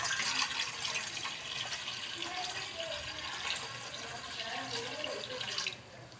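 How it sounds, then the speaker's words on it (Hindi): Water runs steadily from a tap into a half-filled jug for boiling half a kilo of beef for shami kabab, a continuous close splashing flow that stops abruptly near the end. "आधा जग हमने पानी का लेना है।"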